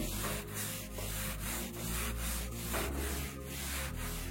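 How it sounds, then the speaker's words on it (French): A sponge scrubbing grime off a dirty landing ceiling during a renovation, producing rhythmic back-and-forth rubbing strokes, about eight in a row, close and moderately loud, with no talking. "Depuis tout à l'heure je suis en train de frotter, de nettoyer."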